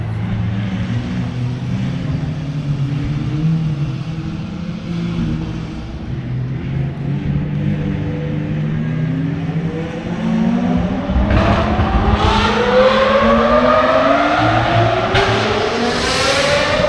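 Supercars accelerating somewhere off in Tokyo traffic as a light turns green, engines rising in pitch through several gears over a steady low rumble of idling cars, moderately distant and continuous.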